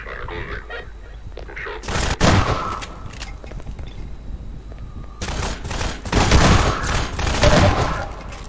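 Video game gunfire, bursts of sharp shots and rapid fusillades arriving in clusters, with loud volleys near the start and a denser stretch of firing toward the end.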